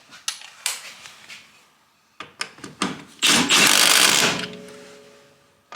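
A battery-powered impact gun works on a Honda CR-X wheel, loud and close. Several short clattering bursts come first, then one longer sustained rattling run that fades away.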